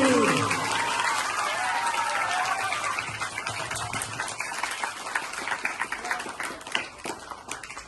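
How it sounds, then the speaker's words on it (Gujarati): Schoolchildren and staff at a primary school quiz clap for the first winner, with loud, dense applause that thins into scattered, uneven claps and fades slightly. Voices are faintly audible at the start. "આપણી સ્પર્ધાના પહેલા વિનર પૃથ્વી માટે જોરદાર તાળીઓ."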